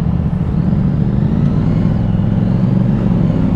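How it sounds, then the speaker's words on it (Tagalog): A CF Moto 450 SR-S motorcycle with its stock exhaust runs close and loud in a steady, even drone, the engine note holding without pause throughout. "maganda na yung tunog ng stock exhaust"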